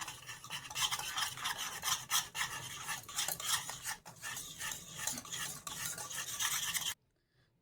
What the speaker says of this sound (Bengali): এবারে সাবুদানাটা গুঁড়োটা দিয়ে দেব। এইভাবে একটু মিশিয়ে নেব।